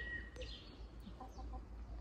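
Backyard chicken giving a few quiet, short clucks, faint and close against a low steady background hum, with no talking.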